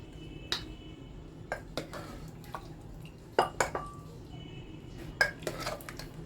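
Beef liver masala (kaleji) being served from a cooking pot onto a plate: sparse metallic clinks and scrapes of a spoon against cookware, several sharp taps spaced irregularly over a quiet kitchen background, with no talking.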